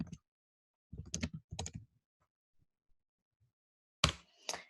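Typing on a computer keyboard: a short tap, then two quick bursts of clustered keystrokes, a few faint isolated clicks, and a final louder flurry of keys. Close and dry, with no talk.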